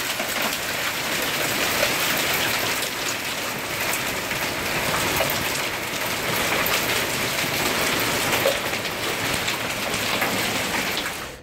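Extreme supercell downpour with very large hailstones in Zuidoost-Brabant, a loud, dense, unbroken roar of rain and impacts lasting throughout, with no voices.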